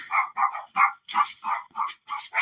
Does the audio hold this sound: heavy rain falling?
no